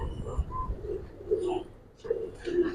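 A male Giribaj pigeon from an old Jampa line coos in repeated low rolling phrases, close and fairly quiet, with short pauses between bursts.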